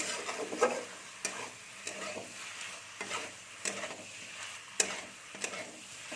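Spoon stirring yardlong bean, pumpkin and potato curry frying with mustard and spices in a pan, steady sizzle with periodic scraping knocks, close and unaccompanied by talk.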